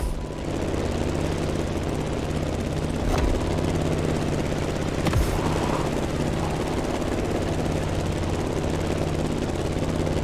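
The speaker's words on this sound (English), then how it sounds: "You've got to steer the plane all the way to the right." In The Crew Motorfest, a plane engine hums and buzzes without a break, steady and close, with a couple of brief clicks or knocks cutting through the drone.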